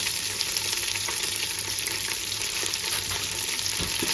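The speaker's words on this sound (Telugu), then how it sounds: "పుదీనా వేసుకొని వేయించుకోవాలి." Mint leaves and curry leaves fry in hot oil in a pan, giving a steady, close, fairly loud sizzle that runs unbroken throughout with no voices.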